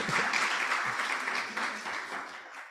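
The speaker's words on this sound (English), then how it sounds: "Yeah, you can clap." An audience at a health summit applauding, steady dense clapping from a crowd in a large room that holds at full strength and tapers slightly toward the end.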